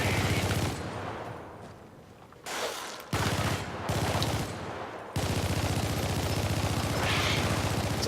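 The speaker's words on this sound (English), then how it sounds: "There's a lot of ammo being spent." Heavy gunfire in a shooter video game, dense rapid bursts of automatic fire cutting in and out in long stretches, loud and sustained with brief drops between volleys.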